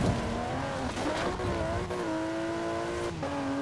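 A car driven at night in Forza Horizon 4's winter festival gives a steady engine drone whose pitch climbs and shifts with gear changes, with some tire squeal, close and continuous.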